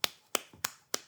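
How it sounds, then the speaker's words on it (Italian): Brief hand clapping: four crisp, close claps at an even pace with a softer tap between two of them, and no voices. "A questo punto un applauso è d'obbligo."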